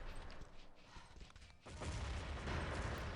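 A grenade explodes in a video game, a dense crackling blast that cuts in midway and holds as a loud, noisy roar to the end, following a busier stretch of scattered gunfire-like bursts.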